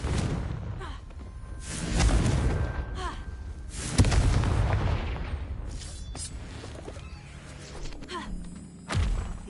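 Confringo blasting spells explode in Hogwarts Legacy, with several heavy thuds and booms, each with a whooshing rush, arriving at irregular intervals amid game effects.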